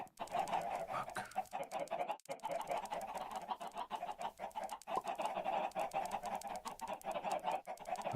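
Chickens cluck in Minecraft as a steady chorus of overlapping clucks and squawks, fairly close and continuous for several seconds, with no speech on top.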